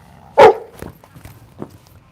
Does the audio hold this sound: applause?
no